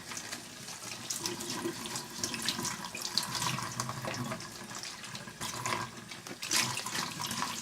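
Tap water runs steadily into a sink while hands are washed after handling fishing maggots, a continuous close splashing rush with small shifts in flow and no speech.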